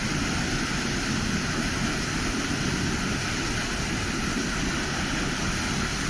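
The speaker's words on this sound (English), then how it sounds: "This is the historic Lepp waterfall." Leap waterfall in Ireland pours in a steady, full roar of rushing water, close and continuous throughout, with no voices.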